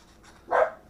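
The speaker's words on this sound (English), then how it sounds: "you can hear my dog in the background" A pet dog, female, barks once loudly indoors mid-clip, a short sharp bark against a quiet room background.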